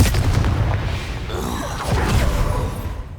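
A Confringo blasting spell explodes in Hogwarts Legacy, a loud booming impact that swells and rumbles, followed by a second surge of blast noise before fading.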